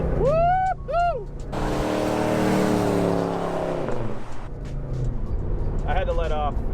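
A 1970 Chevrolet Chevelle with a 454 big block spins its tires, the engine roaring loud and close in a sustained burnout with squealing rubber, while people shout excitedly over it at the start.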